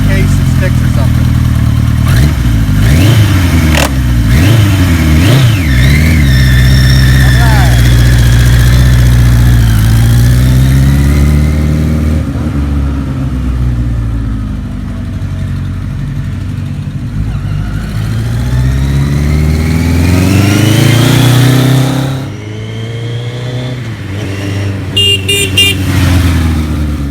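A 1973 Kawasaki Z1 900 barn-find motorcycle engine runs close and loud, idling with repeated rising and falling revs throughout, briefly dropping in level before picking up again.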